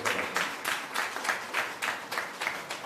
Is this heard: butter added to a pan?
no